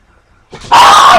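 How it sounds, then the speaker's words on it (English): A small Pomeranian dog barks sharply and repeatedly, loud and close, bursting in abruptly after a brief quiet moment. "he heard another dog outside and started barking like crazy"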